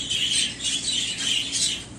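Pet birds squawk and chatter inside their birdhouse, a steady, fairly close flock of shrill calls with no one talking.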